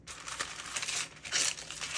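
Thin paper crinkles and rustles in short bursts up close, soft and irregular, with no voices.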